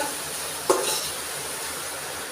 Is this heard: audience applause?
no